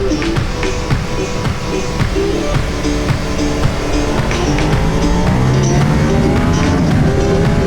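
A Ducati Panigale V4S motorcycle engine roars loudly and steadily up close, its pitch rising and falling through quick revs as it downshifts, with wind rush underneath.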